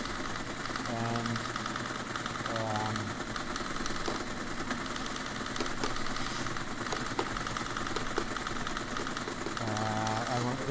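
An ASR-33 teletype prints data as a steady mechanical chatter of fast clacking strikes, with a few short bursts of higher whirring and stepping noise standing out along the way.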